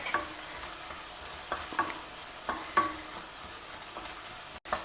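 Chopped onion and mixed vegetables fry in hot oil after a mustard seed and urad dal tempering, with a steady close sizzle broken by repeated scraping stirs of a spoon through the pan.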